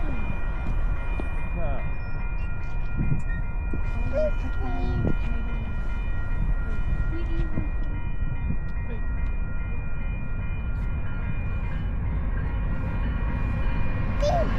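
A train rolls past in the Canmore mountains with a steady rumble of wagons and short horn blasts, while people chat nearby over the din.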